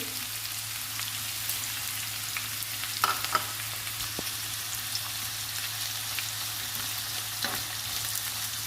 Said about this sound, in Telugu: అన్నీ 1 నిమిషం వేయించుకుందాము.